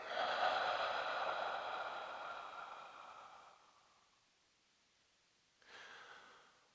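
A long, steady exhale during a yoga breathing practice flows out as a soft breathy rush that slowly fades to silence, then a shorter second breath follows, close and quiet with no talking.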